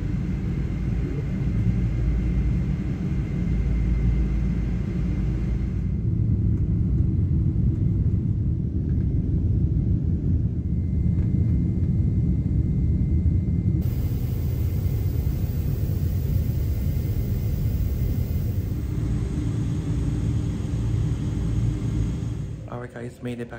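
Cabin of a Boeing 777 in flight, a steady loud low rumble and broadband roar of engines and airflow continuing throughout with slight shifts in tone.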